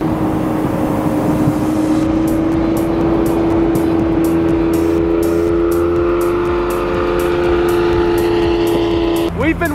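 Lamborghini Aventador with a snow plow fitted, driving through deep snow in Utah, gives a loud, steady engine drone that holds throughout, with a rising whine near the end and people talking over it.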